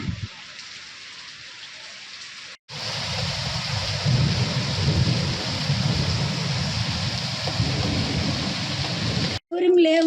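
A heavy thunderstorm pours steady, dense rain in a dull roar with deep rumbling underneath, running almost without pause for ten seconds, broken only by two brief cuts.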